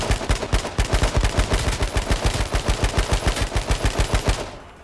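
Rapid automatic AK rifle fire in the H1Z1 King of the Kill battle royale game, a steady close burst of shots lasting nearly five seconds before cutting off.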